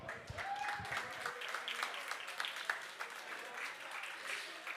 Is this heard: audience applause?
yes